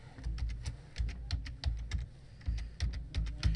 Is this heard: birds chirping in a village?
no